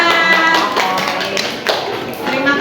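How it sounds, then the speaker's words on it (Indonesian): Classroom applause after a student group in a primary school lesson finishes presenting its work, a dense patter of hands filling the space with a few children's voices mixed in. "Terima kasih, tepuk tangan."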